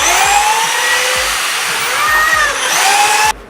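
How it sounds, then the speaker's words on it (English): A power drill bores into a half-inch wood board through a pocket-hole jig, a loud, close, high-pitched whine with shifting pitch that stops near the end. "So I gotta find the right depth to drill with the Craig jig."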